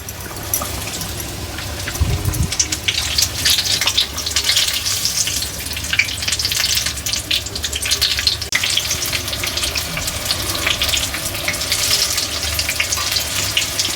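Brinjal bajji bubble and crackle as they fry in hot oil, a busy close sizzle with scattered pops and a brief low thump early on.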